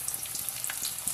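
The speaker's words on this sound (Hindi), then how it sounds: "अब ये देखें जी, ये फ्राई हो रहा है।" A pita zinger pocket fries in hot oil at low to medium heat, a soft even sizzle with fine crackles and small pops, close and without talk.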